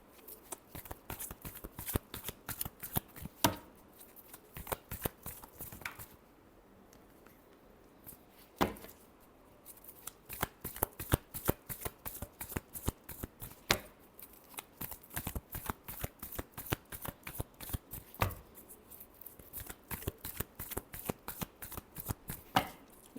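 Tarot cards being shuffled in a quiet room, a long run of quick papery riffles and flicks, close and crisp, with a brief pause near the start before the shuffling resumes steadily.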